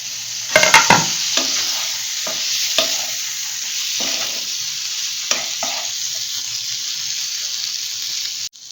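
Chopped tomato and green chilies hit a hot pan of okra for a no-onion, no-garlic dahi bhindi, setting off a loud sizzle. Sharp clanks from a spoon or lid sound early on, and a steady hiss continues without speech.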